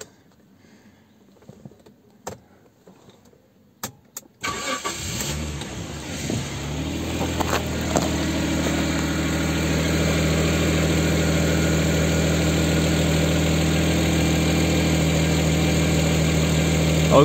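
Jaguar XJ40 engine after a fuel pump replacement: a few faint clicks and clunks, then the starter cranks and the engine catches, revving briefly before settling into a steady, close idle that continues to the end.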